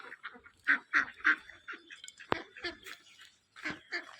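Domestic ducks or geese honk and quack in a run of short nasal calls close by, with a sharp knock partway through and a brief pause before the calls resume.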